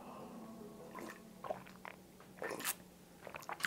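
Someone bites into and chews a date cookie bar, giving several soft crunches and moist chewing sounds close up in a quiet room.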